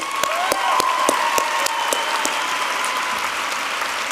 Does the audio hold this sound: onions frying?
no